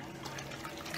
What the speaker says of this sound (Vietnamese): Giờ mình sẽ rửa cho thật sạch cái cát ha